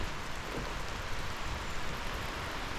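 Heavy rain pours down steadily during a wet forest walk near Whistler, a dense, continuous hiss of drops close by with no voices.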